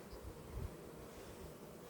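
Honeybees buzzing around a hive during an autumn hive inspection, a faint, steady drone with a soft rustle and no talking.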